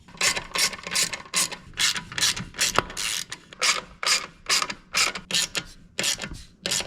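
Ratchet on a Honda mower threading bolts, a steady run of quick clicking bursts repeating in rhythm, close and crisp with no talk.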